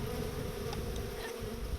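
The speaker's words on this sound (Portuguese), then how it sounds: "E são elas, as melíponas, as abelhas sem ferrão" Stingless Melipona bees drone in the Rio Doce forest, a dense continuous buzzing close by, steady for the whole stretch with no speech.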